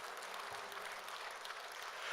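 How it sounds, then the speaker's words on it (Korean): A church congregation claps together during a Korean sermon, a faint, steady patter of many hands continuing without pause for a couple of seconds. "박수, 박수,"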